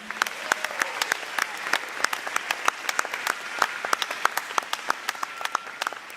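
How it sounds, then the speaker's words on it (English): A dinner crowd at a high school alumni scholarship awards event gives a round of applause for Junior ROTC and National Honor Society students, loose individual claps ringing out near and far in an uneven, sustained patter. "Can we have a round of applause for them?"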